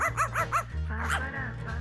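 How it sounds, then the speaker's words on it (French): A small dog gives four quick, high yipping barks, then a longer whining, whimpering bark, close and clear over a low steady hum. "T'as un chien?"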